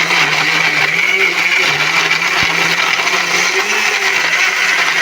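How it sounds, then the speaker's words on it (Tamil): A mixer grinder whirs steadily, finely grinding chironji nuts for homemade health malt, a loud continuous motor hum with a slightly wavering pitch that carries through the whole stretch. "அதையும் இப்போ இதோட போட்டு நான் நல்லா நைஸாக அரைக்க போகிறேன்"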